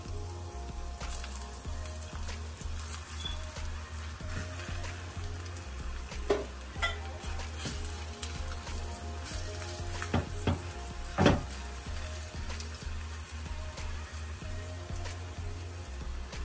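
Meat for chiles en nogada fries in a pan, producing a soft continuous sizzle broken by scattered pops, crackles and a few stirring clicks, with no one speaking.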